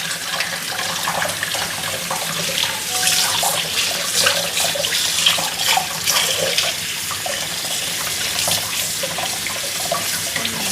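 Fish is washed under running water, a close, continuous splash and gurgle of a stream hitting flesh and a vessel, with rising and falling bursts throughout and no voices.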